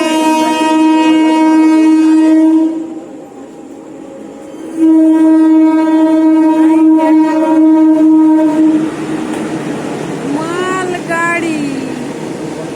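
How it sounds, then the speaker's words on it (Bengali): A train passing close by, long loud horn blasts with a pause between them, then rumbling and squealing wheels as it rolls on, with a voice briefly audible near the end. "এই দেখো ট্রেন চলে যাচ্ছে, দেখেছো মামা? হ্যাঁ, কেমন ট্রেন যাচ্ছে"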